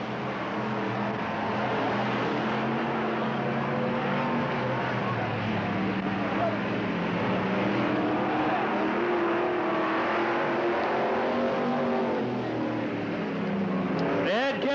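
Race cars, including a Napa Auto Parts Nova, lapping Cottage Grove Speedway in 1991, a continuous roar of engines from the stands with a car swelling past near the end, under a track announcer's voice.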